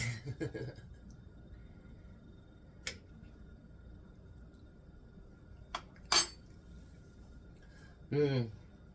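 A clean metal spoon clinks once or twice against a pot of homemade chili in a quiet kitchen, sharp isolated taps between brief talk and soft handling noises.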